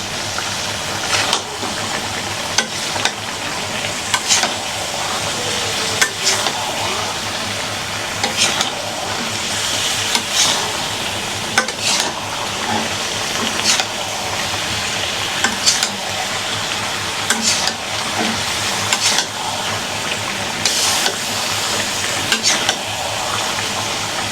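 Steady sizzling from potato and bottle gourd sautéing with spices in a pan, with scraping and stirring clicks throughout, loud and close with no voices.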